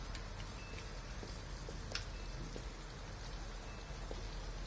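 Steady rain falls on an abandoned house in Southwest Detroit in the game Detroit: Become Human, a dense, even hiss with scattered close drip ticks and no voices.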